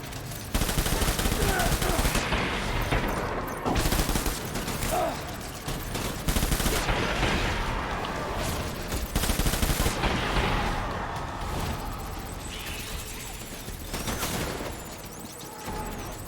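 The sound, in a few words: assault rifle gunfire in the video game Death Stranding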